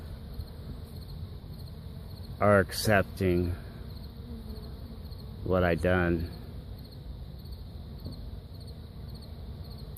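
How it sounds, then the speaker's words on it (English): Honey bees buzzing around a beehive fitted with a robbing screen make a steady, close insect hum throughout. Someone speaks briefly twice over it. "Well, that's the activity at the beehive."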